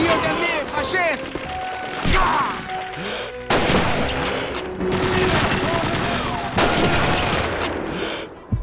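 Bursts of MG42 machine gun fire rattle in a Call of Duty 2 battle, loud and close, with heavy explosions and crashes cutting in between shouted voices.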